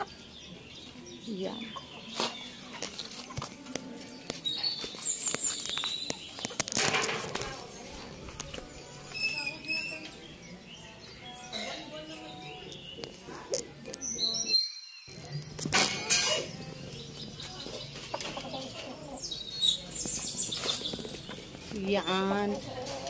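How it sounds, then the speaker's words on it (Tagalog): Many chickens cluck and squawk nearby in a coop, with scattered calls and rustling, while a person speaks briefly in Filipino among them. "ang daming manok"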